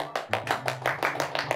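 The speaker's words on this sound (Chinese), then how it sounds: "鼓掌" A small group in a village gathering claps in quick, fairly even strokes, about eight distinct claps over a second and a half, close and moderately loud with no one speaking.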